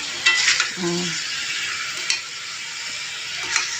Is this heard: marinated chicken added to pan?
yes